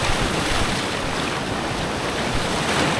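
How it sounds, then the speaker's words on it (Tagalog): Strong ocean surf churned up by a typhoon roars continuously, loud and close, at Puerto Princesa, with heavy wind buffeting the microphone and no voices. "Grabing alon, guys."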